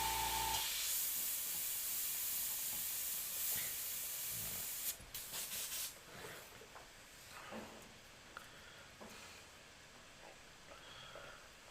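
An airbrush sprays paint with a steady close hiss for about five seconds, then breaks into short bursts and quieter intermittent puffs.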